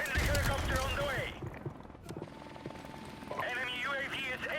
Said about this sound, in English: Friendly helicopter on the way.